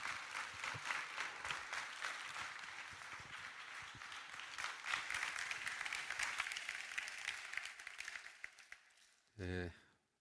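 A church congregation at a Sunday service breaks into warm, steady applause welcoming the preacher, sustained for several seconds before tapering off, then a brief voice-like sound at the very end.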